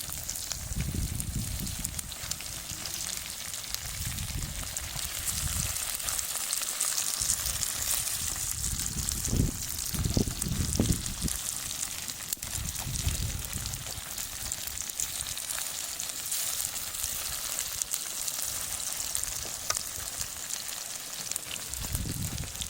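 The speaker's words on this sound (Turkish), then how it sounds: "patatesimiz ocakta Şöyle kaşık yaptık. Şimdi karıştıralım da dibi yanmasın" Potatoes fry in a pan on a stove on a snowy day, a steady crackling sizzle over about twenty seconds, with bursts of scraping and stirring from a spoon.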